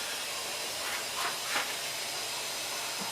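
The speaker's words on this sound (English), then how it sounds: "I'm going to put it in the cleaner, and maybe that'll help loosen it up a little bit." Carburetor cleaner sprays in a few short, soft hisses onto the carburetor of a Chicago Electric 2-cycle generator that will not start, against a steady low background hiss.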